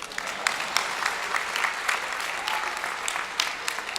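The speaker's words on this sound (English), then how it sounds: "You can clap for that." A gala audience gives sustained applause, a dense patter of many hands clapping steadily throughout four seconds with no voices above it.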